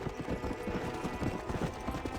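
Horse hooves clip-clop at a steady trotting rhythm in the Red Dead Redemption video game, continuous and fairly close under a dense game soundscape.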